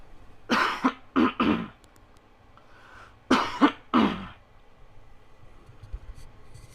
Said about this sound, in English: Just let me cough really fast.